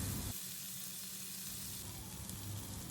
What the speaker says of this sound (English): We'll flip the prawns after about 30 seconds and we'll fry the other side for another 30 seconds